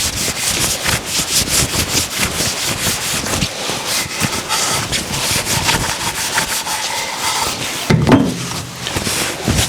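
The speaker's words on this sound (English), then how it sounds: "you spend all the money on the oil and then you try to rub off as much as you can." Cloth steadily rubbing excess oil off a small scrap wood candle holder, a close, continuous rough scrubbing with rhythmic back-and-forth strokes and a brief louder bump near the end, no talk.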